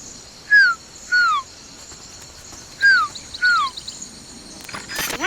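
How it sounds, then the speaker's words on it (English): Rufous-collared sparrow calls from Metal Gear Solid: Peace Walker: four clear, falling whistled notes in two pairs, loud and close, over a steady faint insect-like hum. "What you are hearing is the rufous-colored sparrow."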